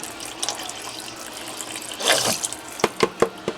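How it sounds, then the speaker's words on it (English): Water splashes from a jug into a pot of meat for shredded beef, a soft pouring burst followed by several quick, distinct glugs and splashes close by. "So I'm putting this whole jug in there."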